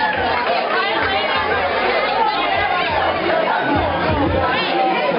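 Crowd chatter from a heads-or-tails game at Ben's Chili Bowl, 2012, as a dense, lively babble of many voices with occasional shouts, steady and close throughout.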